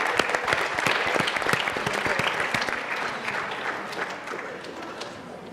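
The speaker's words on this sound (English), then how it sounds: "That's good, we should clap for that." Audience applause at a youth town hall in Simi Valley, a dense burst of many hands clapping that starts strong and slowly tapers over several seconds, close and fairly loud.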